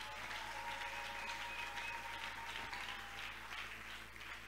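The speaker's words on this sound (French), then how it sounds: "Est-ce qu'on peut acclamer le roi des rois?" A church congregation applauds in a steady, even wash of clapping that sounds slightly distant and holds at a constant level throughout.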